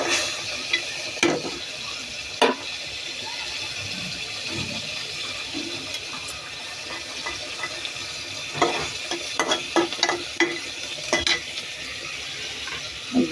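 Bean seeds with green chilies fry in a pan, a steady soft sizzle broken by scattered clinks and scrapes of stirring, close by and without talk.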